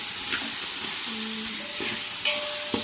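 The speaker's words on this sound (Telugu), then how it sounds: "కొంచెం కళలో దయ్యిద్దాం చికెన్ కూడా వేసి కలిగిస్తాం అలాగే" Chicken pieces stirred in a frying pan for biryani, a dense hissing sizzle with brief scraping strokes and a couple of faint tonal squeaks, close up and without talk.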